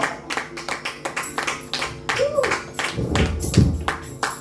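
Church congregation at a Sunday service clapping in a steady rhythmic beat, with voices and cheering rising over the claps toward the end.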